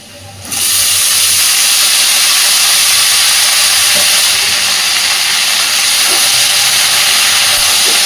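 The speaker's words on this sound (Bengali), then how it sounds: "এইবার আমি এর মধ্যে দিয়ে দিচ্ছি কেটে ধুয়ে পরিষ্কার করে রাখা চিচিঙ্গা" Chopped snake gourd goes into a pan of frying potatoes. After a brief quiet start, a loud, steady hissing sizzle rises almost at once and holds strong and close for the rest of the clip.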